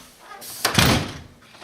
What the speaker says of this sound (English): Derrick, you don't open this door.